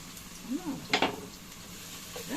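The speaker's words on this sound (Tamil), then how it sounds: "போட்டு நல்லா வதக்கிக்கலாம்." Onions and green chillies sautéing in a pan for kuska, a soft sizzle with scraping stirs and one brief utensil clatter near the middle, close up, no talk.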